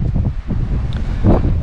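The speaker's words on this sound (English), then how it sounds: "as you can hear, it is a little windy" Wind gusts buffet the microphone at a coastal wild campsite near the beach, a loud, low, continuous rumble that surges and rises toward the end, with no voices.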